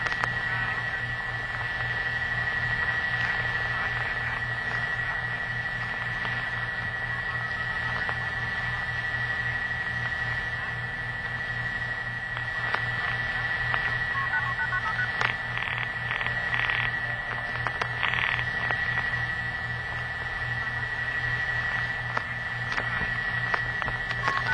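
Steady 1976 Long Island telephone network line hiss and hum with a constant high tone, faint clicks and brief chirps scattered throughout, no voices.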